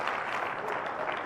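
Congregation applause during a church worship service at a family retreat, faint, steady, dense clapping from a crowd throughout the brief moment.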